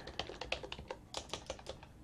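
Quick run of keystrokes on a computer keyboard, steady light taps about five per second, faint and close with no talking.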